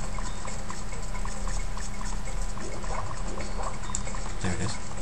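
Water draining in the video game Super Mario 64, with a steady trickling, pouring wash under game music and effects, moderately loud and continuous.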